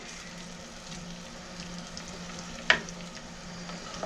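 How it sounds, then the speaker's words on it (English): Ham frying in oil in a pan on a home stove: a faint, steady low sizzle throughout, with one sharp brief pop or clink near the middle. "So we got our ham on in there with our oil"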